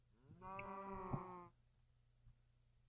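Cows mooing inside Minecraft, a single long, loud game-style moo lasting about a second, then quiet with a steady low background hum.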